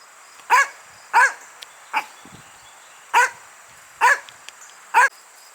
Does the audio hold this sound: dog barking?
yes